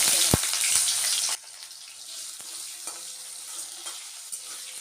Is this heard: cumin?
yes